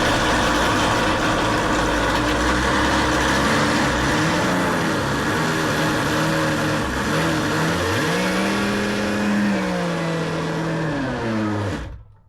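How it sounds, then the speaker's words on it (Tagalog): A blender blending shrimp runs with a loud, steady motor whine for about twelve seconds, its pitch dipping and rising slightly midway, then cuts off abruptly. "Tapos, blender natin."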